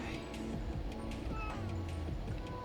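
A house cat meows a couple of times, close and fairly clear, against a background of room noise and faint voices.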